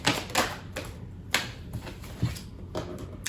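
Tarot cards being shuffled by hand, giving a series of crisp, papery riffling bursts at irregular intervals, close and fairly quiet with no talking.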